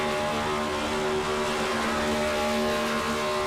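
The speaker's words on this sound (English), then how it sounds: "a big smoky burnout for driver 78 this evening" A race car in the ICON Cup Series at Indianapolis doing a smoky burnout: a loud, steady engine roar held at high revs with a rough, hissing tire-spin texture, continuous for the whole stretch and with no talking.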